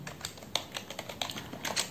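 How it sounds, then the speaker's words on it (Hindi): Keyboard typing practiced at home, with a run of irregular light key clicks and taps spread over about two seconds, close and fairly quiet, with no voices. "उसके बाद मैं अभी यहाँ पे कुछ टाइपिंग कर रहा हूँ।"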